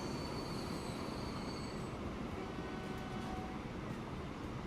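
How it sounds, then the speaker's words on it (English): A freight train in the Transport Fever 2 video game runs continuously with a loud, steady rumble of rolling wagons, high wheel squeal lines rising above the dense noise throughout. "you can end with a view of the freight train trying to pick up passengers"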